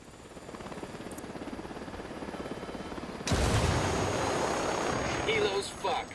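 A helicopter in the video game Ghost Recon Wildlands, a continuous rotor drone that jumps sharply louder and nearer halfway through, with other game noise layered over it.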